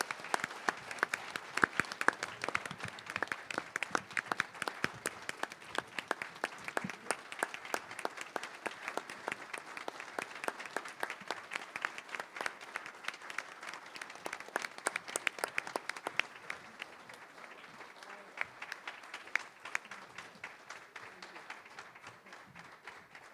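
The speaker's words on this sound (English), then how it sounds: "I would like to give a round of applause and thanks to our outgoing council member, Dennis Weber." Audience at an Agoura Hills city council reorganization meeting in December 2022 gives a long, dense round of applause, many hands clapping steadily for over twenty seconds with no speech over it.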